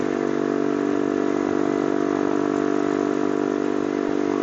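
A Yamasaki YM50 50cc motorcycle engine revs hard and steadily, a loud, buzzy, close-up whine held for several seconds with no talk.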